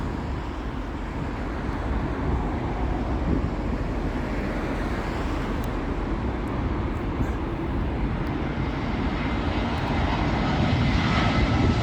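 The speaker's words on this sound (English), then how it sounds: "Also beating the runway switch, British Airways A319. This is coming in from Brussels." A British Airways Airbus A319 from Brussels on final approach to Heathrow runway 27L, its engines producing a loud, steady broadband roar that holds for the whole stretch and swells slightly near the end.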